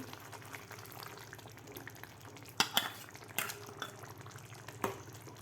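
Spinach puree being stirred into simmering chana masala in a pot, a steady soft bubbling wet texture with a few sharper scrapes and clinks of the spoon against the pan, close and fairly quiet.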